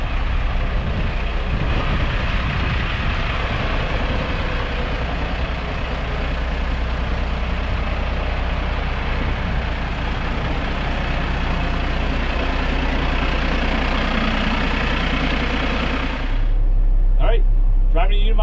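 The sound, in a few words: Unimog engine idling while warming up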